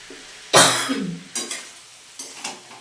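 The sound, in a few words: coughing from pungent spice fumes while cooking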